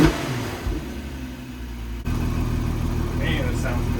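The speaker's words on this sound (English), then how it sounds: "Engine sounds phenomenal." A swapped VR6 engine in a Mk6 Volkswagen idles with a steady low rumble, close by, while a person talks over it at the start.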